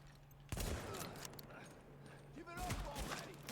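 Blind-fired gunfire in The Division, a couple of loud sharp bursts, one near the start and another later, with a voice talking between them.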